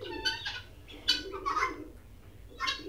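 Hens on a small poultry farm cluck in a few short, close bursts against low background hum, with no talk.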